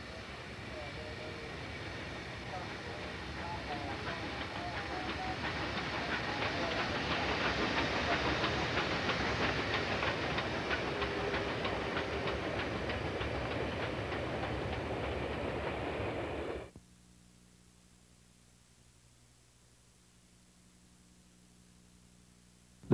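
ET&WNC Tweetsie steam train rolling along the tracks into North Carolina, a loud sustained rumble and rattle with clickety rhythm that swells then cuts off abruptly, leaving a faint low hum.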